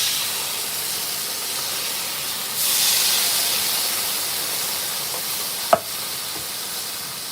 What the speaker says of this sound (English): I'm going to kind of rinse this griddle off so it's not so.